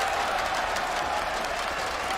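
Crowd applauding and cheering at an esports semifinal match in Espoo, a dense, loud, continuous wash of clapping and noise from a large arena audience with no clear individual voices.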